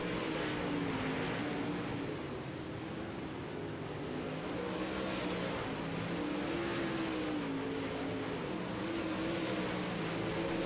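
Dirt race cars from the iRacing video game roar continuously around Volusia Speedway, a steady, loud engine drone with shifting pitch as the pack laps together, no voices over it.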